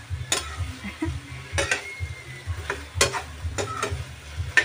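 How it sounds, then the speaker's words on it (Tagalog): Gizzard with lubi-lubi and cassava sizzling in a pan, with repeated sharp scrapes and clinks of stirring over a low steady fry, near and fairly loud, no speech. "Konting sizzle pa."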